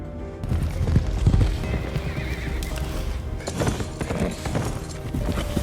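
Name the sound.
horse galloping and neighing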